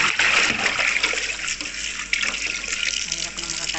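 Water runs loudly and steadily from a kitchen tap to soak baby kailan, a continuous rushing splash filling the clip.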